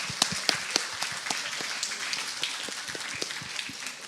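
Scattered audience applause at a school Model UN closing ceremony, with sharp individual claps standing out over a steady moderate patter, fading slightly toward the end.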